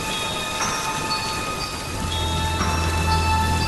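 Heavy rain pours steadily in a Hindi animated horror story, a constant loud hiss that deepens with a low rumble partway through, with faint tonal sounds behind it and no voices.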